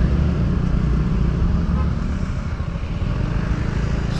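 Dense, steady road traffic rumbles around a rider on a TVS Ntorq XT 125 scooter, with low engine and wind noise filling the whole stretch at a constant close, loud level.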